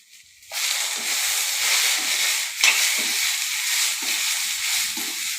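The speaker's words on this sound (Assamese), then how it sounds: "মই এতিয়া সজনা আৰু আলু ভাজি আছোঁ" Steady loud sizzling of vegetables frying in a hot pan, starting abruptly and hissing continuously with a brief louder burst midway.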